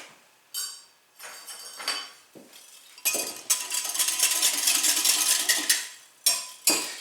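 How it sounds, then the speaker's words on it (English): Active dry yeast and granulated sugar whisked in a bowl: brisk clinking, scraping strokes of a whisk against the bowl in several short runs, with one longer steady stretch in the middle, close and alone with no talk. "And then give that a little whisk."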